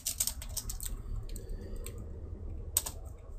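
Fingers tap out rapid bursts of clicks on a computer keyboard while writing game script code. Pauses split the bursts, and a final sharp keystroke rings out near the end.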